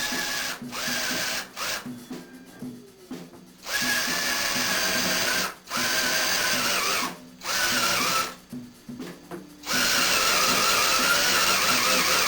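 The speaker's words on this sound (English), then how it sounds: "drill a hole almost to the halfway point in the board" A power drill whines loudly in several bursts, starting and stopping with short pauses between, boring steadily into a layered wooden board up close.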